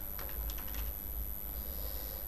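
A few quick, light clicks on a computer keyboard sound close and faint over a quiet background hum, followed by stillness.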